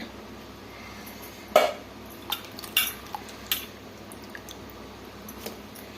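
Eggplant pieces being added and stirred into a pot of fish curry, giving a few brief metal-on-pot clinks and soft squishy scrapes against a quiet background, with no talking.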